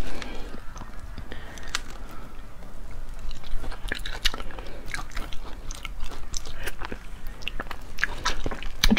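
Close crunchy biting and wet chewing of spicy food in a mukbang, steady repeated bites and chews throughout, with occasional brief speech.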